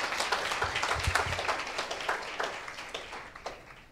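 A church congregation claps loudly together in a steady burst of applause, close and sustained, with faint background noise and no talk over it.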